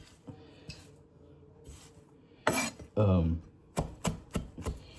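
Kitchen knife chopping food on a cutting board, a few separate sharp strikes then a quick run of evenly spaced chops, close and clear with no talking.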